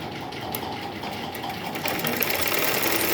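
A sewing machine stitches a nightie yoke with a fast, steady mechanical whir that speeds up slightly toward the end. It is close and continuous, and no one talks.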